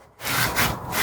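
A rag rubs a rusty brake rotor dry during a Chevrolet Equinox brake job, giving a short, close, rasping swipe followed by a second rub stroke.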